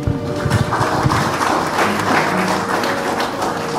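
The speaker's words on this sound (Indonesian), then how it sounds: "kasih tepuk tangan dong" Wedding guests in a church applaud at a morning blessing ceremony, dense continuous clapping filling the room at close range, steady and loud without pause.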